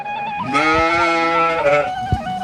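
Black sheep in a flock on a highland pasture gives a loud, drawn-out bleat lasting nearly two seconds, with a few shorter bleats and soft shuffling around it.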